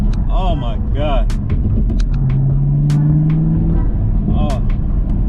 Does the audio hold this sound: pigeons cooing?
no